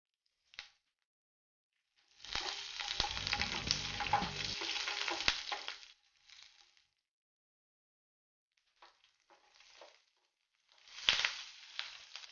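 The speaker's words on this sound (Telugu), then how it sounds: "సో గ్రీన్ చిల్లీస్ కొంచెం ఫ్రై అవ్వాలి." Slit green chillies hiss and sizzle in hot oil in a pan while cooking oats upma, a loud burst of frying that fades after a few seconds, then quiet crackles and a second short flare of sizzling.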